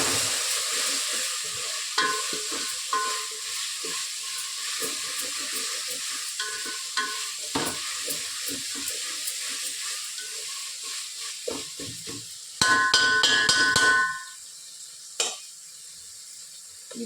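Ginger garlic paste frying in a pan for a soybean biryani, with a steady sizzle and repeated scraping strokes as it is stirred, the sizzle flaring louder near the end before settling; no talking.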